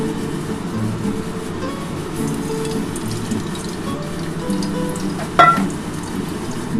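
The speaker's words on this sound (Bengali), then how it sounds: "কড়াটার মধ্যে আমি এবার সর্ষের তেল দিয়ে দিচ্ছি" Mustard oil pours into a wok set on the stove, giving a soft, steady hiss and patter against a faint kitchen background, ending with a brief louder clink.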